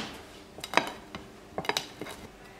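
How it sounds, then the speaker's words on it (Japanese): A kitchen knife cuts through a pizza, making a few sharp clicks and scrapes against a plate or board. The sounds come close and fairly quiet, with short pauses between the cuts. "ピザカッターがないので包丁で切ります。"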